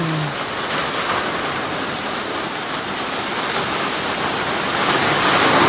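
Heavy tropical rain pours down steadily in a dense, broadband roar that swells slightly louder near the end, with a brief voice at the very start.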